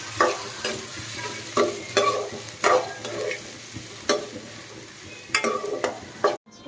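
Potatoes frying in a pan with turmeric: a steady low sizzle runs throughout while a spoon scrapes and stirs in regular strokes, each scrape a sharp, close rasp against the pan, with no talking.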